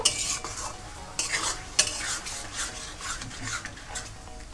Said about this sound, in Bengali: সসটাকে লো টু মিডিয়াম ফ্লেমে রেখে আরেকটু কুক করে নেব